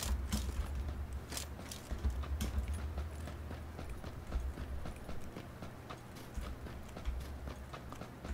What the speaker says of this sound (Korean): 이렇게 발자국 소리 내고 다니면 안 되겠네요 여러분들